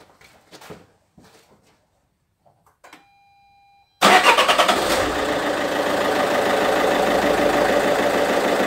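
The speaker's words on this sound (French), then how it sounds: "Nous allons effectuer une mise en route pour voir si le moteur fait plus de bruit qu'avant" A Peugeot 407 2.0 HDi diesel engine cranks and fires up abruptly, then settles into a loud, steady idle with a rough, knocking clatter, after a few quiet rustles.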